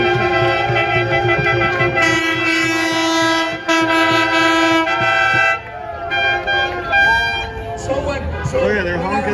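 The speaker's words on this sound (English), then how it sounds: "Oh yeah, they're honking, they're covering their ears, guys." Truck air horns blast repeatedly from a passing 2022 People's Convoy in Washington, loud and close, in long overlapping honks with traffic noise and voices underneath.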